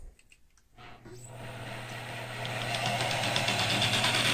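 A 120 volt grinder wired to a small outlet spins up after a few quiet clicks, its hum rising steadily in pitch and loudness at fairly low RPM, close and without talk.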